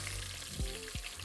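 Chicken breast frying in hot oil gives a steady close sizzle, with a couple of brief bubbling bursts across the short stretch.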